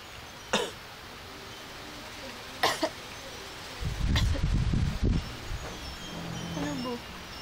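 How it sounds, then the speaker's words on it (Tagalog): Several separate coughs sound at intervals, each short and sharp, with soft rustling and a burst of low handling noise between them. Nobody speaks. "Naku, may ubo, kawawa naman."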